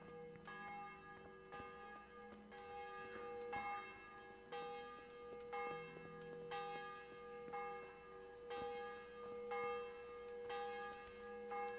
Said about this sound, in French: Je serais curieux de voir qui sonne les cloches.